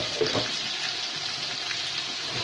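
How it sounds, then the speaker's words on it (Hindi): Chicken frying in a pan for Karachi biryani, a steady soft sizzle with a watery hiss that stays even and close throughout, no talk over it. "चिकन हमारी अच्छी तरह से तल गई है।"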